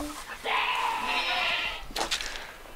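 A newborn baby goat gives a single drawn-out bleat lasting over a second, close and clear, followed by a shorter cry.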